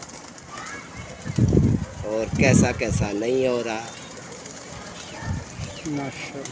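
Pigeons at a pigeon club coo and flap their wings in short bursts, mixed with steady background noise while someone talks nearby.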